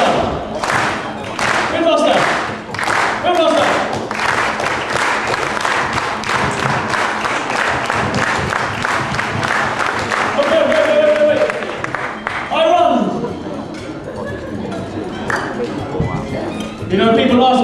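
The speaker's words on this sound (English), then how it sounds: "a slow Singapore clap like this" A street-performance audience claps slowly in a steady, regular rhythm for several seconds, each clap a distinct thud, while a performer talks over it and the crowd reacts.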